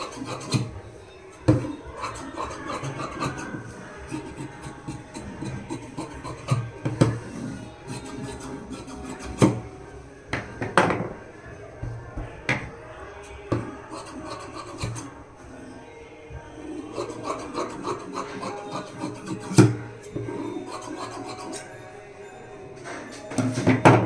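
Blouse lining fabric being cut with scissors, a series of rasping, scraping snips and rustles with irregular sharp strokes at close range, continuing throughout without talk.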